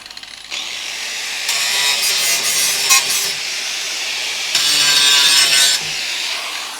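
Angle grinder at work on a crew cab Dodge Charger restoration, producing two sustained, loud, harsh hissing runs of grinding, each lasting a couple of seconds, close by with a short quieter gap between them.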